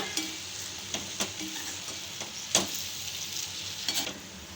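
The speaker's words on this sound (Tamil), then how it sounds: "பொடியோடு சேர்த்துட்டு ஜஸ்ட் ஒரு ஒரு நிமிஷம் மட்டும் கலந்து விட்டுக்கோங்க" Stirring ivy gourd curry with sprinkled spice powder in a pan: a soft, steady sizzle runs throughout, broken by several sharp spoon scrapes and clinks against the pan at irregular intervals, with no talking.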